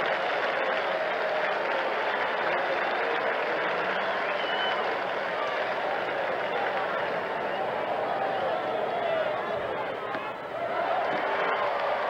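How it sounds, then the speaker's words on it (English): Sustained crowd applause for Mickey Mantle at Fenway Park during a 1968 Yankees at Red Sox game, a dense wash of clapping and cheering that holds steady for the whole stretch with only a brief dip near the end. "the applause will be for Mickey Mantle"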